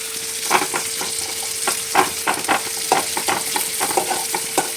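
Onions fry in a pan while a spoon stirs them briskly, producing rapid, irregular scraping strokes over a steady sizzle, close and moderately loud, with a faint constant hum beneath.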